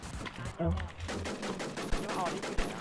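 Gunfire from a video game cracks out in short, sharp bursts and single shots, close and loud, while someone talks excitedly over the action.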